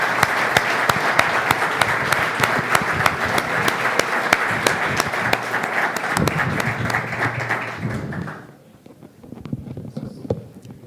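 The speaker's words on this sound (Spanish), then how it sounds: "te agradecemos mucho y te damos un muy fuerte aplauso" An audience at an annual weed-science meeting gives a speaker strong applause, a dense sustained burst of many hands that thins after about eight seconds to a few scattered claps and room noise.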